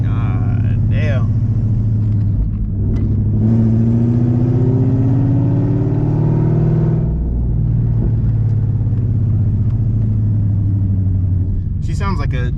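Ford Mustang GT V8 fitted with Texas Speed headers, rumbling loud and close with a deep, steady idle and a rising rev in the middle before settling back, while people talk over it.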